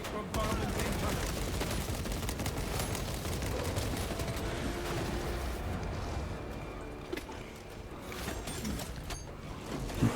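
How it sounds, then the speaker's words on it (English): Pyrogenic bombardment in Space Marine 2 lands as a dense, continuous barrage of loud blasts and rumbling impacts that thins slightly toward the end, with gunfire crackling through it. "Pyrogenic bombardment incoming."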